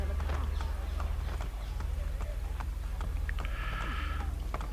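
Horse hooves clip-clop steadily at a riding pace in Assassin's Creed Brotherhood, under a constant rumbling background with occasional game sounds.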